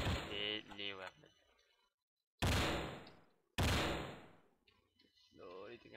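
Machine gun fire from the video game Endless War 2 rips out in two sharp, loud bursts between stretches of talk, each burst dying off quickly.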